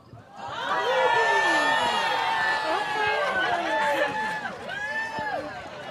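A live comedy-show audience in Minneapolis roars with loud, sustained cheering, whooping and shouting voices layered together for several seconds.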